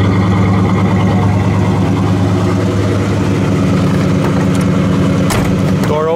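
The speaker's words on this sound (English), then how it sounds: "But it really sounds nice with that dual exhaust." A 1968 Oldsmobile Cutlass S convertible with dual exhaust and chrome tips idles with a steady, close, deep rumble that stays even throughout, with no talking over it.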